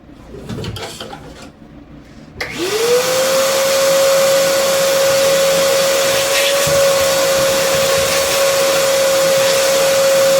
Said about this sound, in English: And I usually just vacuum it up.